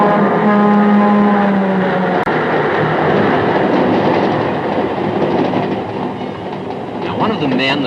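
An old railroad engine train rumbles along with a steady droning tone at first, then continuous rolling clatter, loud and near, with a brief tonal whine near the end.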